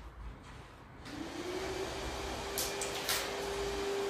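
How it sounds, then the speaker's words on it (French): A vacuum cleaner runs during construction work downstairs, a steady whining drone that rises after the first second and holds at moderate level, with a couple of brief hissy bursts toward the end and no talk. "Désolée si vous entendez un bruit d'aspirateur, il y a des travaux en bas."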